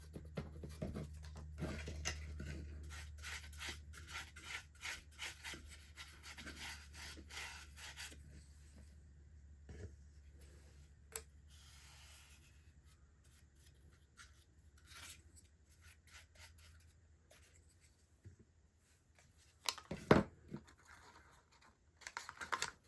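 Cardboard is cut and worked for a dollhouse, making quiet, close, intermittent scraping and rasping strokes with scattered small taps and no talking.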